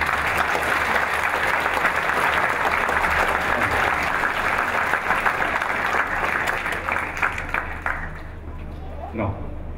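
A large crowd at a historical festival in Kolín applauds loudly and steadily for several seconds, the clapping thinning out near the end.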